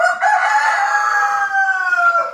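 A crossbreed layer rooster crows once, loud and close, a long drawn-out call lasting a couple of seconds, on a farm selling chickens.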